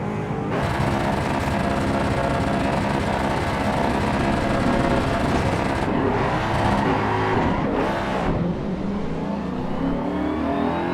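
A Ford Mustang racing start in the Assetto Corsa Evo video game, a loud continuous engine roar revving up through the gears with brief dips at shifts, a pack of cars droning around it, no speech.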